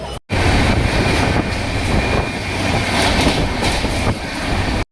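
A passenger train pulls into Dhanbad station in Bihar, giving a loud, steady rumble with rhythmic clickety-clack from the wheels and no voices.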